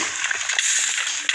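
A brief burst of splashing water with a game-like, processed quality, short and fairly close.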